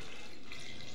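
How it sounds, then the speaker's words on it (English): Milk poured into a blender with banana already inside for banana juice, a steady, soft liquid stream running continuously and close by, with no talk. "Pour the milk into a blender."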